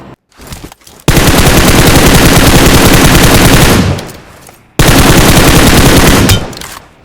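Two long bursts of rapid automatic gunfire in PUBG Mobile, loud and close, separated by a brief pause, with a few scattered shots before the first burst.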